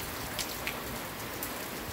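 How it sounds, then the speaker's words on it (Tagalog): Steady, dense rain hisses throughout during Typhoon Ramil in the Philippines, with strong gusty wind and a few brief louder spatters, no voices over it. "Malalakas na hangin, pag-ulan, pabugso-bugso po ito."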